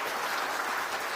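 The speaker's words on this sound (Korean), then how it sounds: "인사할 때 뜨겁게 박수로 축하해 드리겠습니다." Dense, steady applause from a church congregation at a dedication and ordination service, a full room of hands clapping together at moderate distance, continuous and even with no pauses or voices.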